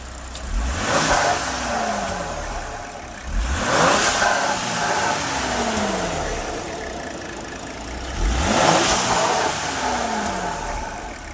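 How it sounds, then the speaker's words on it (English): A stock-exhaust 2020 Ford Explorer ST with its turbo engine revved three times, each rise climbing sharply and then falling back toward idle, loud and close with no talking. "Let's hear some turbos."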